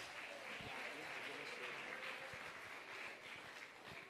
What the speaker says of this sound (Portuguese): Quem pode aplaudir, aplauda Jesus.